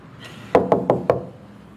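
Four quick, sharp knocks on a door, close by and evenly spaced in a brief burst, alone without speech.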